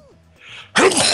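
A single sharp sneeze bursts out after a short quiet intake of breath, loud and close, in a casual indoor game session among friends.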